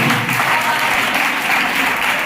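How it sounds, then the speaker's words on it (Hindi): A crowd at a poetry gathering in Sanganer, Jaipur claps loudly and steadily, a dense, continuous wash of applause with no pauses. "एक बार जोरदार ताली"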